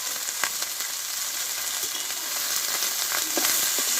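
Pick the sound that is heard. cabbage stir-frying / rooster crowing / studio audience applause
cabbage stir-frying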